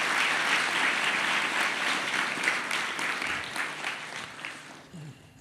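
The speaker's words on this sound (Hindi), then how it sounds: "तालियों से अभिवादित करेंगे।" A crowd at a motivational talk in Ahmedabad claps steadily in sustained applause, dense and even, fading slightly toward the end.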